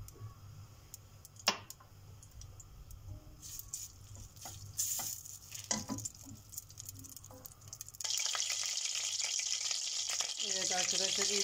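Oil and butter heat in a pot as the base for lentil soup, giving soft crackling and clinks at first, then a steady, louder sizzle that starts about two-thirds of the way through.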